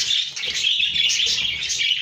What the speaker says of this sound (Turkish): Kuşların sesi beni bastırıyor farkındayım